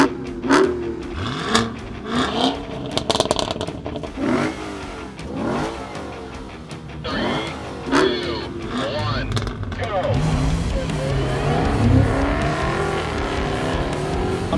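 A 2022 Dodge Charger Jailbreak, a Cadillac CT5-V Blackwing and a Lexus IS 500 launch together in a drag race without traction control, engines revving hard and roaring as they accelerate away, loud and close, with a voice talking over the noise.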